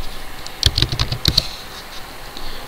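Fingers typing a search word on an Android phone's touchscreen keyboard, a quick cluster of light taps and clicks near the mic, with a short pause before another brief burst.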